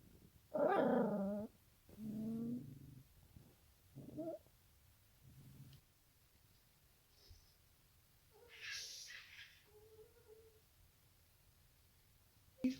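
Puppies yip, whimper and growl in short bursts close by, with pauses of quiet between the small cries.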